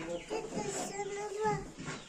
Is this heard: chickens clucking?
yes